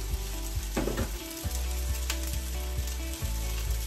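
Onion, garlic and tomato sautéing in a casserole pan for pork kinulob, a steady close sizzle and crackle of frying with occasional stirring clatters.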